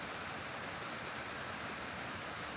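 Heavy rain pouring down outside a house during a flood, a steady dense broadband hiss with no breaks, moderately loud and without voices.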